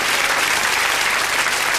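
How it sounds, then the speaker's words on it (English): Studio audience applause for Sooty's magic trick, dense and steady clapping throughout a short burst, loud and close with no talk over it. "Give Sooty a round of applause, I think he deserves it."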